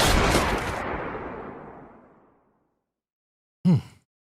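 A loud booming gunshot blast in a hip hop song decays into a long fading rumble, then a brief sharp tonal hit follows after a pause.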